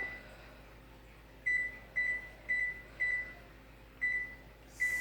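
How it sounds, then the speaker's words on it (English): An oven timer gives a run of short, bright beeps at a steady pace, close and clear over faint room hum, as it is set for baking sugar cookies. "And we set a timer"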